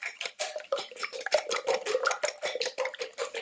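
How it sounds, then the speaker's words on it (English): A fork beats eggs in a bowl for spaghetti carbonara, giving a steady run of quick, close metallic clinks and scrapes against the bowl with no talking. "Mix your eggs."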